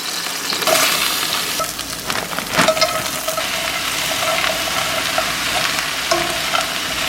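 Food is stirred in a hot pan, with a steady sizzle and frying crackle and a few scraping, clattering strokes near the start, close and continuous, with no voices.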